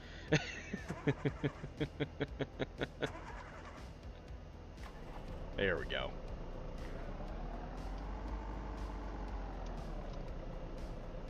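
A video game truck engine rumbles and revs, rising and falling in pitch after a run of rapid mechanical clicks and a short hiss, with a voice speaking briefly.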